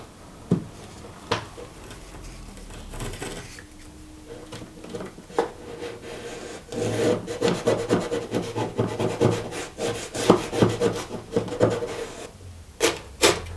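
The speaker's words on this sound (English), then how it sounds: "then we cut it off with a knife" Adhesive-backed scrim tape on plasterboard being cut off with a knife, heard as a series of close scraping and rasping strokes with scattered sharp taps and rustles, busier toward the middle.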